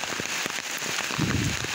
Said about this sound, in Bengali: বৃষ্টি পড়তেছে যার কারণে মানুষজন হয়তো দোকানপাটে বসে আছে।